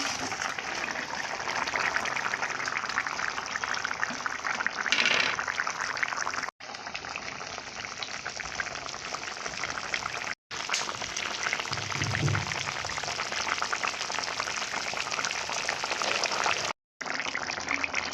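Curry of bitter gourd and fried fish simmers in a pan with a steady, soft bubbling and hissing that carries on evenly at low volume, broken by a few brief silent gaps.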